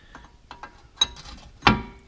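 A Ford Mustang tie rod nut is turned by hand in a few quiet metallic clicks and ratcheting ticks, ending in one sharper clank, close and otherwise silent.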